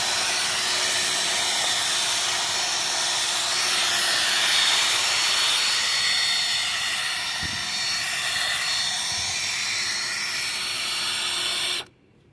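A pressure washer sprays grimy car floor mats from a RAV4, producing a steady, loud broadband hiss that holds for about twelve seconds before cutting off abruptly at the end.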